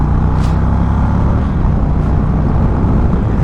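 An Indian Springfield Darkhorse motorcycle cruises along a road, its engine giving a loud steady low drone mixed with wind rush, with a couple of brief brighter swells.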